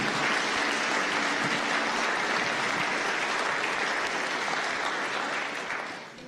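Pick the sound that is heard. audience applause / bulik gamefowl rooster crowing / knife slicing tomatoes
audience applause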